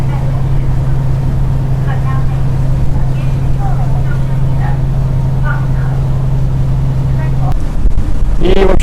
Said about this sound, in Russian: Мы поплыли на пароме.